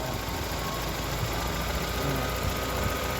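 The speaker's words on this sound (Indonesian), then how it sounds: "Nah, ini RPM mesin akan naik." A Toyota Corolla engine runs steadily with no voices, its revs climbing as the ignition timing is advanced, giving a continuous close mechanical drone.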